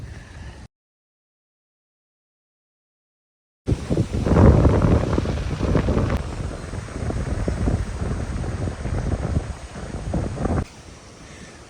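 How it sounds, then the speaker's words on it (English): Wind gusting at about 20 mph across Snipatuit Pond roars steadily against the microphone from a small fishing boat, following a brief silent gap, then eases off near the end. "The wind picked up to about 20 miles an hour"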